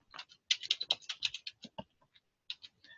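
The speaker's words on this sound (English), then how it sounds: "I'm going to type in my first keyword and all the synonyms connected with the word or." Rapid typing of search keywords on a computer keyboard, a quick run of crisp close key clicks that slows into a few scattered taps near the end.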